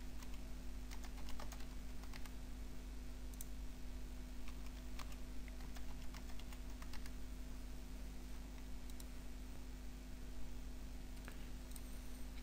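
Password being typed on a computer keyboard: a steady run of soft, close key clicks in uneven bursts over a constant low electrical hum, with no voices.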